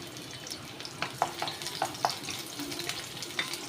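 Finely chopped garlic sautéing in hot oil in a pan, a soft, steady sizzle with a few light clicks of stirring, fairly faint and without talk.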